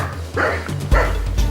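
A man loudly imitates a dog with his voice, giving rough barking yelps in a tense dramatic scene, with low rumbling background noise.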